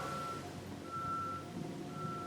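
A truck's reversing alarm beeps in steady, evenly spaced tones at a distance, under a constant outdoor rumble of traffic and engine noise.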